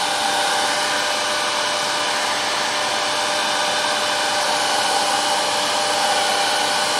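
A hair dryer blows steadily and close by, warming two broken guitar neck parts before gluing, a constant unbroken whoosh with no talking over it.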